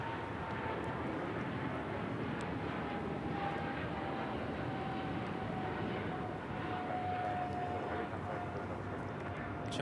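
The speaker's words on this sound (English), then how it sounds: "China Airlines cargo, flight 5137, heading to Taipei in a 777 freighter." China Airlines cargo Boeing 777 freighter at LAX, a steady broad jet engine roar with a thin whine running through it, continuous and fairly close, with no talk.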